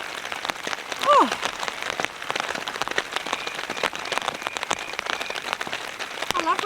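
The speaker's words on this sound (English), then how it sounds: "listening to the rain on the tent" Steady rain patters on a camping tent during a wild, heavy-weather night, a dense continuous drumming with scattered sharper drop hits, and a brief bird-like chirp near the start and end.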